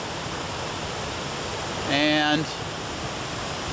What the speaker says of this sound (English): You can now see the water rushing into the pond right up here, coming down